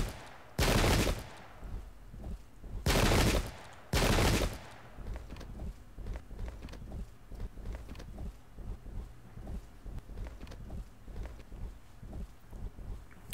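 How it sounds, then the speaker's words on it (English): Musket and gun volleys in the Pike and Shot battle game: three loud crashing bursts of massed fire, then a long stretch of scattered distant popping shots. "This is good to see that we're starting to fire at their units."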